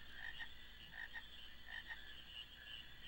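Frog croaking in a marsh in the video game Final Fantasy IX, a repeated series of short, faint croaks in pairs over a steady ambient background, with no talking.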